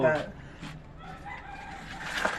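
A chicken clucks and crows briefly at close range, with some background noise.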